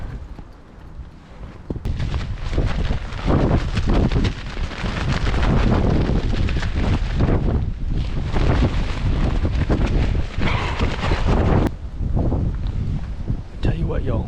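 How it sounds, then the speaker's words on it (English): Wind gusts through Pennsylvania woods during a whitetail deer rifle hunt, making loud, rumbling buffets against the microphone that rise and fall for the whole stretch, with a voice heard beneath it. "it is windy"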